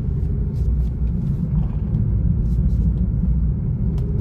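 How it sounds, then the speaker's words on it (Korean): A car nicknamed the "Joseon Porsche" drives a forest road near Pocheon, giving a steady, loud engine and tyre rumble from inside the cabin that runs continuously without pause. "조선 포르쉐를 타고 지금 숲속을 헤매고 있는 중입니다"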